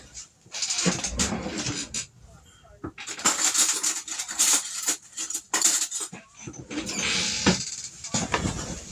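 A metal spoon clinks and scrapes against a dish while ingredients with a pinch of salt are stirred together, in irregular bursts of scraping and tapping in a home kitchen, with a person talking intermittently.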